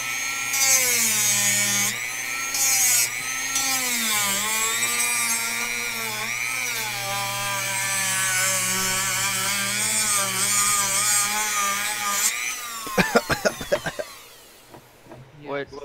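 A Dremel rotary tool cuts ABS and polycarbonate plastic, a steady high whine with shifting pitch as it bites the workpiece, running loud and continuous before stopping into a few clattering knocks.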